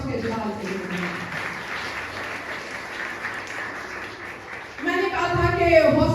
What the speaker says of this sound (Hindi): आई जोरदार तालियां उसके जलाल के लिए।